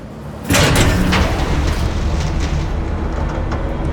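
A train arrives in the Batman Telltale video game, opening with a sudden loud rush of rumbling, hissing rail noise that holds steady for several seconds with faint rattling on top.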